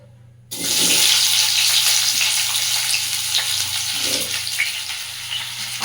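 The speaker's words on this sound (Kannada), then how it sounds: "ಇವಾಗ ಒಂದು 2 ಸ್ಪೂನ್ ಆಗೋಷ್ಟು ಆಯಿಲ್ನ ಹಾಕ್ಕೊಂಡಿದ್ದೀನಿ ಮಸಾಲ ಫ್ರೈ ಮಾಡ್ಕೊಳ್ಳೋದಕ್ಕೆ." Masala sizzles loudly in about two spoons of hot oil for paneer butter masala, a sudden burst of steady frying that starts after a brief silence and continues, with faint stirring.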